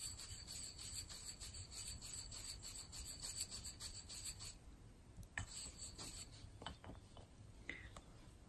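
A Chinese calligraphy ink stick is ground against an inkstone in a quiet, continuous, close-up rubbing rasp with a soft steady rhythm and occasional small scrapes.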